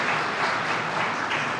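An audience at a New York affordable housing ribbon-cutting breaks into steady applause, a dense, continuous patter of clapping from many hands throughout.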